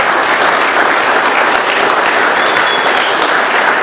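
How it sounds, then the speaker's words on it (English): Loud, dense audience applause for a speaker at an AA meeting in Doylestown, PA, a steady wash of many hands clapping close up for the whole stretch with no talking. "Let's give one more round of applause to Mariel."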